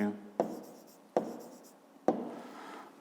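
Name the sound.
pen writing on paper during maths lesson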